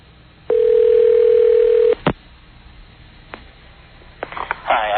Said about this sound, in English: I'm calling O.J.'s number right now.